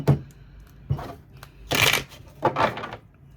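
Tarot cards are shuffled and riffled in several quick, close bursts of papery flutter and snapping, separated by short pauses.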